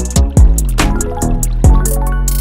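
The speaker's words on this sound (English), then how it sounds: "The used water will be drained into waste tank and the fountain will be refilled with clean water from the 2 buckets." A LALAHOME pet fountain drains and refills with water, giving loud, close drips and plops in an irregular series with a few brighter splashes in between.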